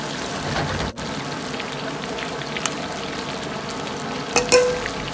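Chicken pieces deep-frying a second time in hot oil over medium heat, a dense steady crackle and sizzle filling the clip, close and fairly loud, with a brief dip near the start and a few louder pops toward the end.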